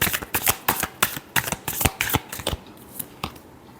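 A deck of tarot cards is shuffled in a quick run of crisp riffling bursts that stop after a few seconds, close and fairly loud with no voice over them.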